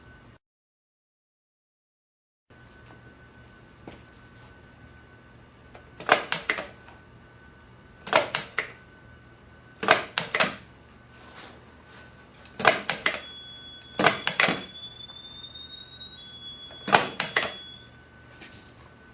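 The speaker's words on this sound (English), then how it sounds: "This is a heavy-duty stapler. It can staple anywhere from just a few sheets all the way up to 1 inch thick." A heavy-duty stapler punching staples through a thick book block for a hardcover, six sharp mechanical clunks spaced about two seconds apart over a quiet room, each a short crisp snap, with no talking.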